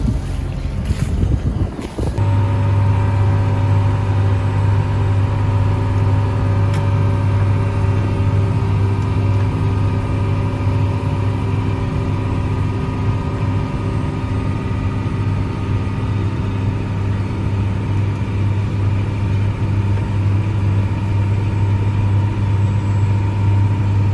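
A tractor runs a corn stalk chopper on its PTO, putting out a loud, steady mechanical drone with a strong low hum. The sound holds constant throughout, after a brief clatter at the start.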